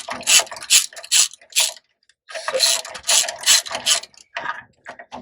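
A hand ratchet turned counterclockwise to loosen a part, a close, loud series of quick rhythmic clicking bursts with short pauses between strokes, no talk.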